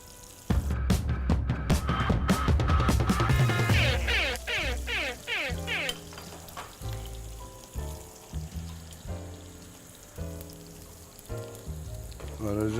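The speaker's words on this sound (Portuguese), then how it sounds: "as rodelas de chouriço e as tiras de toucinho que resultarem desta fritura" Chorizo rounds and strips of pork fat frying in a pan, a steady loud sizzle with crackling bursts and spatter, close up, while a voice speaks over parts of it.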